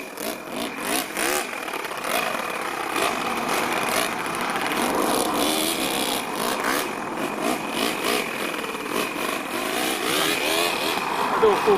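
A four-cylinder four-stroke nitro engine in a radio-controlled rat rod, running lean and revving in a steady buzzing drone that stays loud and close throughout.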